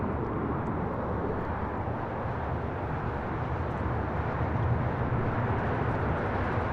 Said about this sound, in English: We now have All Nippon Airways Flight 5 rolling on 25 right to Tokyo Narita